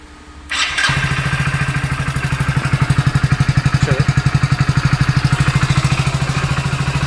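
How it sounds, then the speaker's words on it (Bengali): A Hero Splendor BS6 motorcycle, with its self-start wired in a bypass, cranks briefly and catches, then settles into a loud, steady, throbbing idle right up close. "গিয়ারে থাকলেও ক্লাচ চাপলে সেলফ কাজ করে।"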